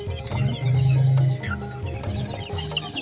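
Young chickens cluck and call at a busy poultry market, with steady clucking over a crowded background of market noise and a low droning hum.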